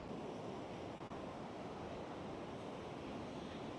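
Steady roar of surf and breaking waves at Praia da Barra beach in Santa Catarina, a broad continuous wash heard alone with some wind across the microphone.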